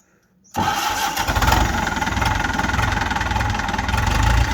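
After a brief silence, a four-cylinder tractor engine on a Champ MX5900 tractor cranks and fires up, settling into a loud, steady, rumbling idle with a rapid chugging beat.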